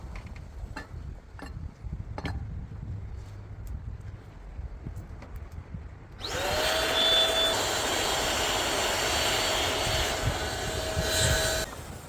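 A simple gas bottle forge melting down old brass valves from gas bottles: after a few scattered knocks, its burner ignites into a loud, steady jet-like roar with a faint tonal whine that holds to the end.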